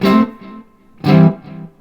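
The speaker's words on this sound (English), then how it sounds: "I'm plugged into my Friedman Smallbox 50s here, and there's a microphone on this cabinet, and that's what you're hearing." An electric guitar played through a Friedman Smallbox 50 amp, miked at the cabinet, with a touch of reverb and delay from a Strymon Volante: two distorted notes ring out loud and close, each decaying with a faint echo trailing behind.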